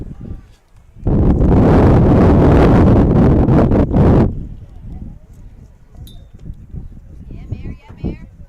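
Strong wind gusts at an outdoor softball game in Columbia, a loud roaring buffet on the microphone for about three seconds that then eases into lighter gusting.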